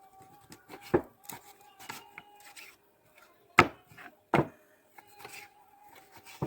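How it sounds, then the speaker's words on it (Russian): Meat is cut into small pieces with a knife on a wooden board for a Tajik dymlyama stew in a kazan, giving sharp, irregular chops spaced apart with quiet scraping between them, close and fairly soft. "А теперь начинаем мясо резать."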